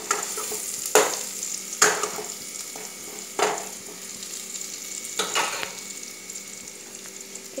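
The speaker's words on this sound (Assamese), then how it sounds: "এনেদৰে লৰাই থাকিব।" Spices for a sweet tamarind achar being stirred in a hot pan, a soft continuous sizzle broken by several sharp scraping strokes of the spoon, close and alone without talk.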